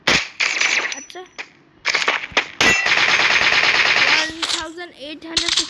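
SMG fire in the mobile shooter Free Fire: loud, close bursts of rapid automatic shots, a short volley, then a long sustained stream, then more brief clattering bursts.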